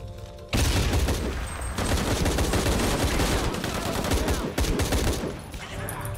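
Sustained rapid gunfire in the video game Shadow of the Tomb Raider, loud and dense bursts filling nearly six seconds after a brief quieter start, with a short break midway and no speech over it.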